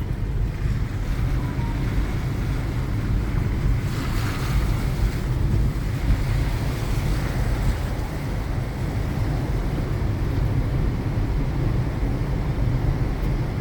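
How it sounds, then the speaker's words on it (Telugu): Water rushes through the four opened gates of Srisailam dam, throwing spray onto the road, a loud continuous roar mixed with wind buffeting the microphone; no talking. "శ్రీశైలం గేట్ల నుంచి నీళ్ళు వెళ్తే వచ్చే నీళ్ళ వేగానికి నీళ్ళ తుప్పర్లు రోడ్డు మీద పడుతున్నాయి"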